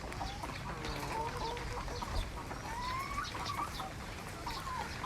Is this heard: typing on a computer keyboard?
no